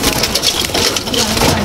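Female racing pigeons pecking up maize kernels, a loud, close, continuous rattling and crunching of beaks on grain that goes on without pause.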